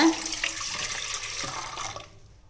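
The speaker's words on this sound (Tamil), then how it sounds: "இப்போ நம்ம கரைச்சி வச்சுருக்க புளி தண்ணி சேர்த்துடலாங்க" Tamarind water pours and splashes steadily into a pot, close by, then tapers off and stops near the end.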